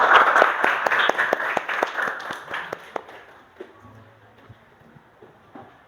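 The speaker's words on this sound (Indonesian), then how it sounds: "kita beri aplaus, tepuk tangan buat kelompok 1" A classroom audience claps for the first discussion group during a teacher-training lesson, a dense burst of many hands that thins out and fades to scattered claps and quiet room noise.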